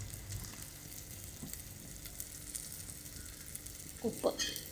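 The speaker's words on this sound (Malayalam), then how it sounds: "ഉപ്പ് ഇതുകൂടെ ചേർത്തിട്ട് നല്ലതുപോലെ ഇളക്കണേ" Chili powder, coriander powder and rock salt are stirred in a hot pan for a coconut curry, with a low fry sizzle and scraping stirs that grow into louder clatters near the end.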